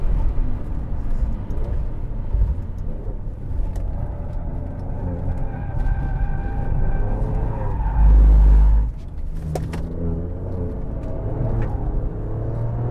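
An Alfa Romeo Quadrifoglio drifts, its tires skidding and squealing steadily under a loud engine note for several seconds, with a brief burst of wind buffeting partway through.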